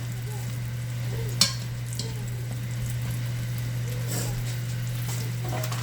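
Butter frying in a pan beside skin-on potatoes, a steady close sizzle with occasional clinks and stirring scrapes, and a constant low hum underneath.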